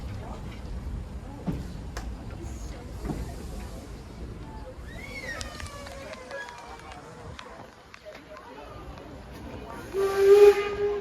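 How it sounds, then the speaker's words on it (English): A steam train whistle shrieks briefly near the end, loud and high, over hissing steam and a low rumble with a voice heard earlier. "let's wait for that whistle"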